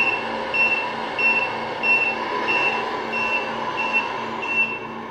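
A Scania R620 model truck sounds its reversing alarm: steady, evenly spaced high beeps repeating about every half second, loud and close over a continuous engine hum, with no voices.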